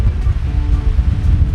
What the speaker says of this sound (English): that wind is kicking up something fierce